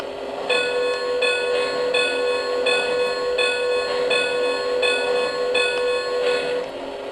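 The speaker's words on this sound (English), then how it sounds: "The bell." A model locomotive bell from a Lionel LionChief Plus 4-6-0 CNJ Camelback clangs in a steady, even rhythm for several seconds over a low background hum.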